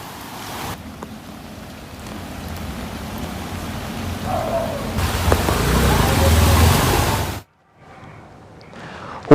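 Heavy rain pouring over Jakarta streets during evening traffic congestion, a dense steady hiss of rain on surfaces building louder before cutting off abruptly near the end.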